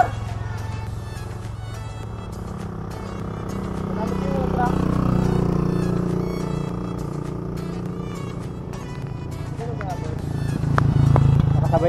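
A motorcycle engine rises and fades as it passes along a mountain bike race course, nearing twice, while excited voices shout and chatter over the noise.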